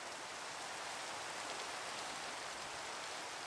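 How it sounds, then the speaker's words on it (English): Rain falling on a stony shore, a steady, even hiss of countless drops that fills the whole stretch without pause, fairly soft and close. "Now it's raining."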